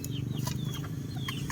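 Shamo chickens cluck softly nearby in a low, steady murmur, with a few short higher calls and chirps scattered over the brief stretch.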